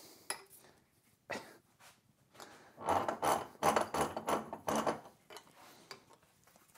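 An aluminium tank strap is bent in a bench vise during a Ford Focus build with a 1UZ V8, giving a cluster of metallic clanks and creaks, with a few sharp knocks at the start and a denser run of clattering in the middle.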